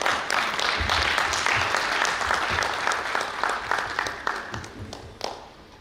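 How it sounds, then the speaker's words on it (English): Loud, sustained applause from a crowd at a brand launch event in Bengaluru, dense clapping that holds for several seconds and then thins out and fades toward the end. "A big round of applause to them."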